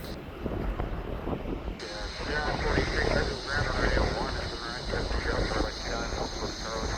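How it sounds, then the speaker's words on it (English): A McDonnell Douglas MD-11 airliner takes off at Louisville SDF, heard from outside as a broad, sustained jet roar blended with heavy wind buffeting on the microphone, with voices talking over it. "this is our first MD-11 takeoff"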